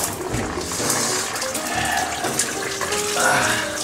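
Running water pouring into a bathtub, a steady splashing gush from a tap with faint background sounds, no talking.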